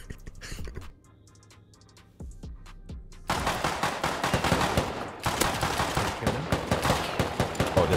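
Gunfire in the video game Rust, a few sparse sharp shots giving way to long sustained bursts of rapid, loud fire with a brief pause between them.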